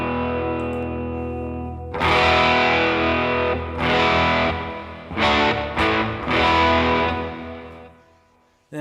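An electric guitar runs through a NUX MG-30 effects processor in serial mode, playing several loud distorted chords and stabs with pauses between them and ringing sustain, with no voices.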